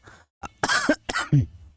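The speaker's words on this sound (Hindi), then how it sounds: "खांसी आ रही है मुझको" A few harsh coughs close up, a short burst then two more, with a throat-clearing edge and brief pauses between.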